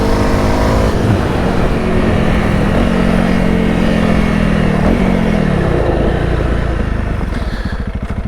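A Honda CRF300L motorcycle ridden along a flat rural road in Denmark, its engine droning loudly and steadily with small pitch shifts as the rider changes speed, heavy wind rush throughout.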